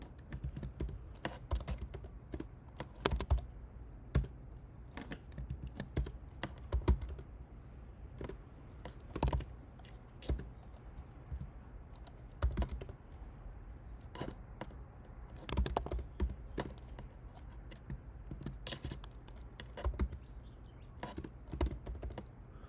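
Rapid clicking of keys typed on a computer keyboard while writing code, in bursts with short pauses, close and fairly quiet.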